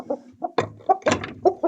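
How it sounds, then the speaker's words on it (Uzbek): A rooster and hens cluck close by in short, irregular bursts of clucks and squawks, loud and clear against a quiet background, with no talk. "Makyon bilan xo'roz bor."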